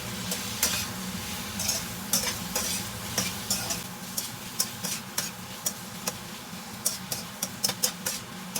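Gai lan and Chinese sausage sizzle steadily in a pan while a utensil stirs and scrapes, with irregular clinks and taps over the constant frying hiss, close by.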